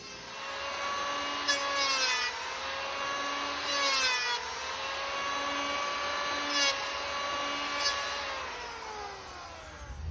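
A bandsaw cuts a tapered wooden oar blank, 1 3/4 inch thick. Its steady whining hum sags and recovers in pitch as the blade works through the wood, continuous and close for about ten seconds, with no talking.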